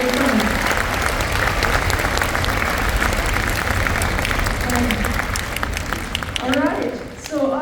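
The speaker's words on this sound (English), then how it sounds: "So let's give them a round of applause" Concert audience at a spring school orchestra concert applauds loudly and steadily, a dense wash of clapping with crowd voices mixed in throughout, tapering slightly near the end.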